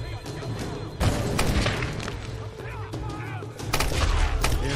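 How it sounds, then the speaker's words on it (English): Gunfire from a Tomb Raider shooter game on PS4: several sharp, loud shots and booms over a few seconds, heard beneath a player's excited talking. "Headshot sound."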